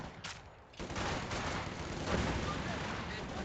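Machine gun fire in Company of Heroes 2, a dense rattling burst of automatic shots, with distant battle rumble that fills the whole stretch at moderate loudness.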